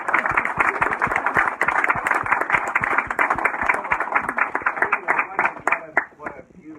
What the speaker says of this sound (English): So give school teachers a round